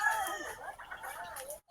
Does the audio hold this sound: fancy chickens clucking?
yes